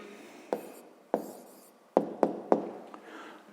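Pen strokes on paper as a math answer is written out by hand: a series of short scratchy bursts, several in quick succession, close and fairly quiet with no talking.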